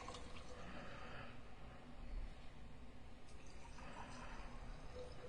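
Mead being poured into a glass at a meadery tasting, a soft steady liquid pour under low room noise, fairly faint and continuous.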